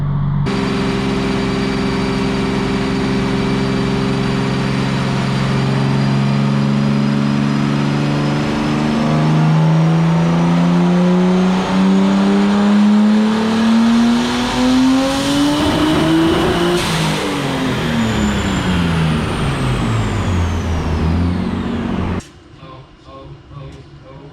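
A built RB20DET engine in a 1991 Nissan R32 Skyline GTS-t roars loudly on a dyno, its pitch climbing steadily through a long pull before dropping off sharply, with a brief quieter rumble at the end.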